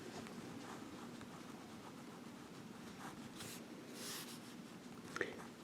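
A Lamy Tri Pen writes in blue ink on paper, giving a very faint, continuous scratching of the nib over a quiet background hiss.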